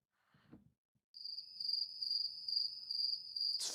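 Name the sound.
crickets chirping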